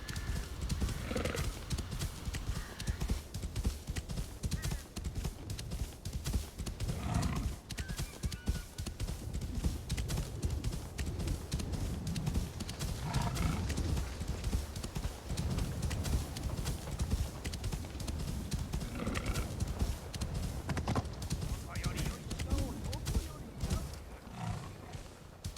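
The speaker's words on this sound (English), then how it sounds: "I'm still using the beast horse from previous episode that Naoe gave me." Hooves clip-clop steadily beneath a dense, continuous game soundscape as a beast horse gallops in Assassin's Creed Shadows, with occasional snorts or whinny-like calls rising from the mix.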